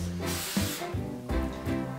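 A few bursts of aerosol hairspray hiss close up, each a short sustained spray with brief pauses between, with no talking.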